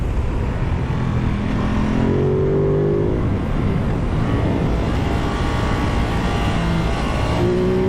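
A Ducati Multistrada 950 motorcycle on the road, its engine droning steadily and close throughout with wind rush, pitch shifting slightly as it accelerates, no talking.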